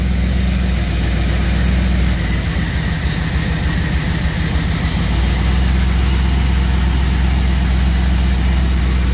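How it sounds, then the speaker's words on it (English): A car engine idles with a low steady rumble, then sags and labors for a few seconds before settling back to its even idle, as a battery ground is disconnected on a car with too-high battery voltage. "You can even hear the engine bog down some with it."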